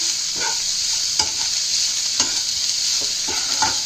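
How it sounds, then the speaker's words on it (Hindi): Onions fry in a pan with a steady, close sizzle, broken by a few sharp scraping stirs of a spoon against the pan, for a Rajasthani onion kachori filling. "अब प्याज के गलने तक इसको हम थोड़ी देर भूनेंगे।"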